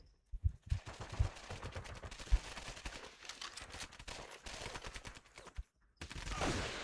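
Enemy soldiers' gunfire in Medal of Honor Heroes 2, a World War II shooter: scattered single shots and short bursts crackle over busy battle noise, with a brief lull near the end before a steady rumble.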